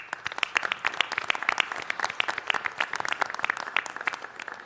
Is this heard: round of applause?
yes